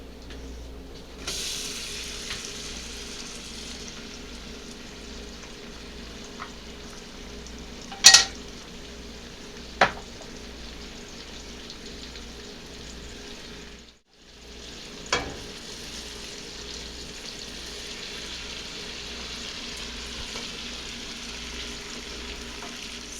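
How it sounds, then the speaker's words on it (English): Onions and mustard frying in melted butter in a pan while making mac and cheese, a steady soft sizzle with a few sharp clicks and clanks, close and continuous with no talk. "Once your butter is melted, add your mustard and your onions."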